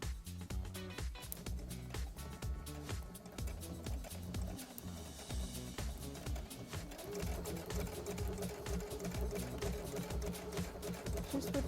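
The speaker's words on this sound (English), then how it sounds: "I'm going to go ahead and stitch the back of the crown before I finish the top." A Brother CS7000i sewing machine straight-stitches the crown of a fabric cowboy hat, a continuous, fairly soft rhythmic chatter of needle strokes running steadily throughout.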